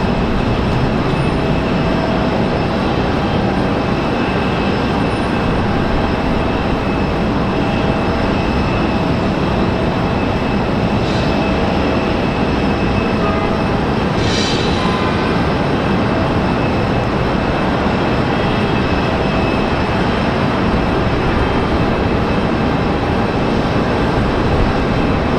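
A Frontier airliner arriving from JFK at Raleigh Durham airport, heard as a continuous broadband jet roar that holds steady and fairly loud throughout, no voices over it.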